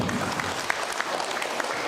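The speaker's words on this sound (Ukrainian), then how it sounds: "Поаплодуємо їм, операторам, фотографам, прекрасному ресторану" Wedding guests clap together in a steady, close burst of applause, a dense patter of many hands at moderate loudness with no talk over it.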